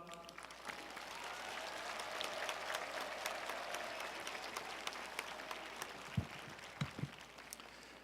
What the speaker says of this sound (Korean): 나오실 때 큰 박수로 맞이하겠습니다.